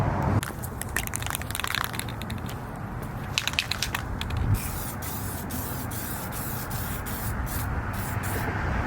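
Plasti Dip being spray painted onto a 2018 Mustang GT: a continuous close hiss of the aerosol, with crackly bursts and short gaps between passes and no talk.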